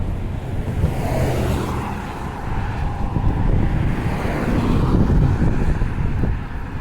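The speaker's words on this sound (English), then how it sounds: "Most of this traffic is going across the McKay Bridge." Road traffic streams steadily across the McKay Bridge in Halifax, a continuous broadband rumble of passing cars mixed with wind buffeting the microphone, moderately loud and without a break.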